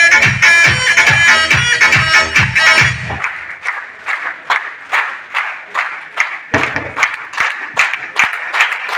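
An audience applauds loudly at a stage event welcoming achievers. Thick clapping arrives over rhythmic music at first, then continues alone as a rhythmic unison clap that briefly swells again.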